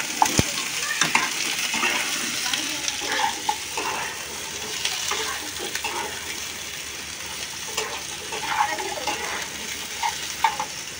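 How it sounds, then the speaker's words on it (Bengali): Potatoes frying in a pan give a continuous soft sizzle, broken by repeated scraping and stirring clinks of a utensil against the pan, close and moderately loud with no talk. "এর সঙ্গে আলুটা একটু আমি ভেজে নেব।"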